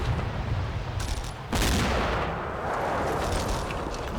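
Off-target artillery in Combat Mission: Battle for Normandy: a steady rumble of distant shelling and scattered gunfire, swelling into a louder sustained crash partway through.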